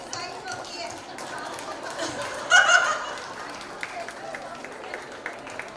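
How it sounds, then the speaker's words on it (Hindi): Audience applause at a Mother's Day event, a brief burst of clapping and cheering that rises in the middle, heard under continuing talk and crowd chatter. "Please give a big round of applause"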